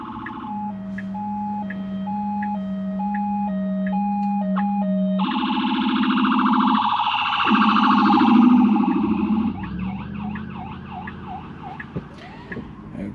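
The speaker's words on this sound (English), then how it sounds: "And an ambulance is coming up behind us." An ambulance comes up from behind stopped traffic, its siren cycling through a steady two-tone pattern, then switching to a louder wail and a fast yelp as it draws close.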